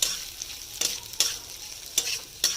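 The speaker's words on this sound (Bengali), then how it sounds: "দিয়ে ভালো করে মিক্সড করে একেবারেই ঢেলে দেবো দিয়ে এইভাবেই আমি ফ্রাইড রাইসটা করবো" Fried rice with egg being stirred in a hot pan, a soft continuous sizzle broken by about five sharp scraping strokes of a spatula at an uneven rhythm, close and alone without talk.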